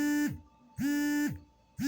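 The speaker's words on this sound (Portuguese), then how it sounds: "alarme que eu coloquei, esse barulhinho." A phone alarm beeps in two steady, repeating tones, each about half a second long with short gaps between them, loud and close with no speech.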